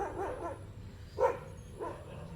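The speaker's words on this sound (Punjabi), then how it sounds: "ਆ ਦੇਖਾ ਕੁੱਤੇ ਆਂਦੇ ਨੇ ਇਹਨੂੰ ਵੱਡਾ ਟੋਲੇ ਨੂੰ" A pack of dogs barks in short, separate bursts, three or so barks spaced over a couple of seconds, at moderate distance against a low background rumble.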